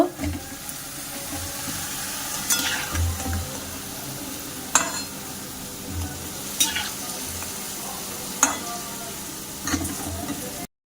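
Balushahi sweets made from flour dough sizzle as they fry in hot oil, a steady hiss broken by a few sharp clinks and stirring knocks, close and continuous with no voices.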